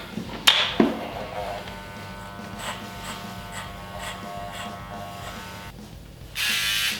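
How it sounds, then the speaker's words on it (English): An electric shaver runs close by with a steady, thin buzz after a couple of sharp clicks at the start, growing louder and harsher for the final half second. "This is what I use to shave for contest rep."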